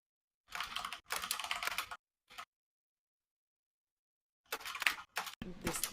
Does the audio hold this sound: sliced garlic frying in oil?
no